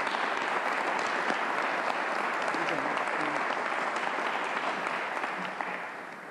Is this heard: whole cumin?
no